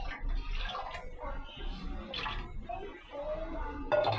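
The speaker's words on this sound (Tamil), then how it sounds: "இதில் கொஞ்சம் தண்ணி ஊற்றி மிக்ஸ் பண்ணுறாங்க." Water poured into a tamarind paste mixture for rasam, a steady splashing and gurgling pour with light sloshing as it mixes in the pot.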